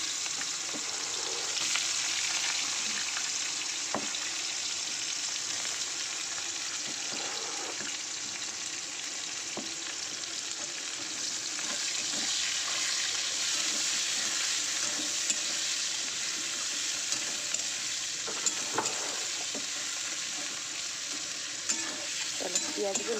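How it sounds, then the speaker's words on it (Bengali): Chopped onions fry in hot oil with whole garam masala in a kadai. A steady, close sizzle runs throughout, with occasional stirring scrapes and clinks and no talk. "চলো পেঁয়াজগুলো আগে একটু মজে দিই, একটু ভাজা হয়ে গেলেই পেঁয়াজগুলো মজে যাবে"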